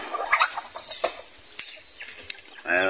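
Scattered bird calls and squawks, ending in a rapid, rattling gobble from a turkey nearby.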